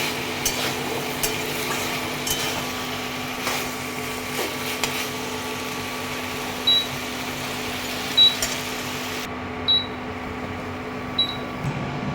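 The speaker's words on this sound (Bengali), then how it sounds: "করলাটা ভেজে নিচ্ছি" Bitter gourd fries in a pan with a steady, low hiss of oil, joined by a faint background hum and a few soft clicks and taps.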